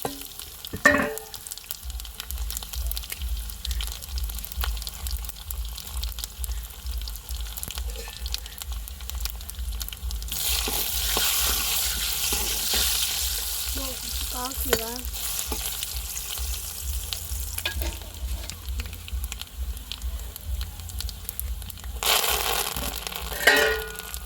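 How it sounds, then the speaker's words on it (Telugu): Fenugreek, mustard seeds, cumin and chana dal sizzle and crackle steadily in hot oil for tempering, with occasional clinks of a spoon stirring the pan and a low hum underneath. "ఒక అర స్పూను మెంతులు, ఆవాలు, జీలకర్ర, శనగపప్పు అన్నీ అరచుకోనండి."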